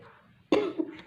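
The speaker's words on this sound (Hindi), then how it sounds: "गले में इन्फेक्शन है, खांसी हो रही है" A single harsh cough from someone with a throat infection bursts out near the microphone after a quiet moment, followed by a second smaller catch of the throat, with no speech over it.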